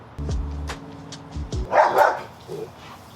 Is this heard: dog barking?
yes